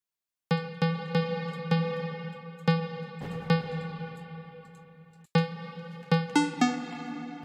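Synth melody in Ableton Live with a reverb effect, short bright bleeping notes struck in a rhythmic pattern, each with a lingering tail that fades between hits, loud and alone.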